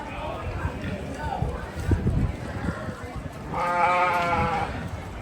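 Goats bleat in livestock pens at the Eastern San Diego County Junior Youth Fair, a cluster of wavering calls rising near the end amid crowd chatter, footsteps and other farm-animal noise.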